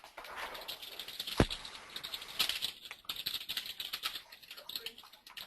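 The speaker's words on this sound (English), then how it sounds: "Great news now is you can hear people typing." Several people typing on computer keyboards in a quiet room, giving a steady patter of faint, scattered key clicks with a single louder tap near the start.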